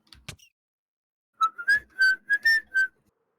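A person whistles in imitation of a whistling sound, with several short tonal bursts in a quick rising and falling pattern, close and clear after a brief breathy noise.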